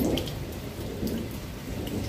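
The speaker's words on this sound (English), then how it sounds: "I just thought we'd enjoy the lightning storm together, because I love lightning storms" Night-time thunderstorm with steady, loud rain pattering on surfaces and low rolling thunder rumbling underneath, continuous throughout with no talk.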